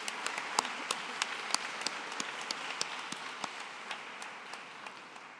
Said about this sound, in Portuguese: a quem eu peço uma salva de palmas aqui a todos presentes